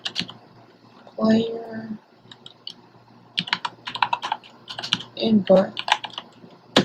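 Java code is typed on a computer keyboard in irregular bursts of close, crisp key clicks, broken by stretches where someone speaks.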